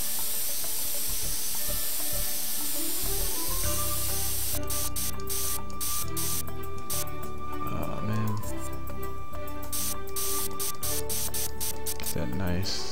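Airbrush terrain painting tool in The Sims 3 video game, a steady hiss running throughout with mechanical clicking and game music layered over it.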